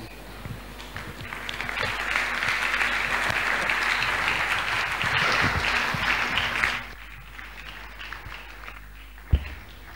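Congregation applause and cheering fill a church service, a dense sustained wash of clapping for about seven seconds before cutting off to a quiet room with a single sharp knock near the end.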